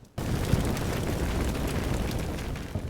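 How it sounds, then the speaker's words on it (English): A T-34 tank's shot strikes a StuG in the Combat Mission war game, starting with a sudden blast that fades into a broad, sustained rumbling roar. "a distracted Stug falls victim to a T-34 shot"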